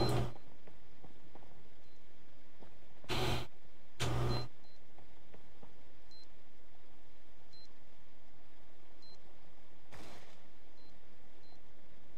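Bomb in a Counter-Strike match emitting short, faint, widely spaced electronic beeps across a quiet stretch, with a few sharp loud bursts of gunfire-like noise breaking in early on and again later.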